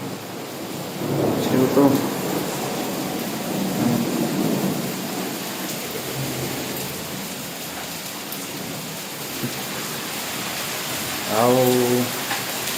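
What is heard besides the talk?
rain and thunder outside the building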